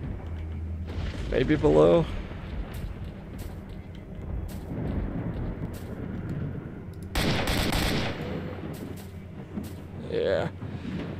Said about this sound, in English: I think they're just shooting at me from like, above.